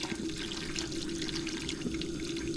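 Water pours from a jug into a pot of chicken and sausage okra gumbo on top of chicken broth, a steady, continuous splashing stream with a constant tone, close and unbroken, no talking.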